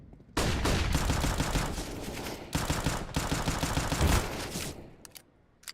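Rapid bursts of Five-SeveN polymer pistol gunfire in a Counter-Strike match, dense sharp shots packed into two long volleys with a brief gap between, loud and close, ending in a few isolated clicks.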